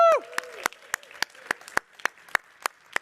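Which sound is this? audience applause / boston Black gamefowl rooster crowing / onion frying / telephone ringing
audience applause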